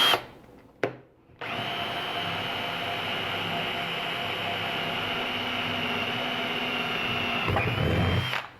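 A jigsaw runs steadily for several seconds cutting wood from a drilled starter hole, with a loud, continuous whine and buzz, starting after a brief knock and cutting out near the end.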